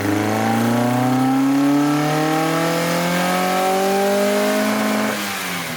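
An Alfa GTV engine revs on a dyno in one long, loud, steady pull, its pitch climbing smoothly for about five seconds before it drops off abruptly near the end.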